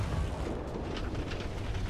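A tank cannon fires in the War Thunder video game, a deep, rumbling boom that fills the moment with a heavy low roar and no talking.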